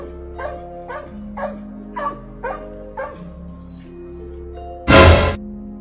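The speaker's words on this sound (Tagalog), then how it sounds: "kung bakit tahol ng tahol ang aso sa taas ng puno kahit wala namang naroon." A dog barks from up in a tree at night, about seven sharp yelping barks in a steady rhythm, fairly close, followed by a single loud burst of noise near the end.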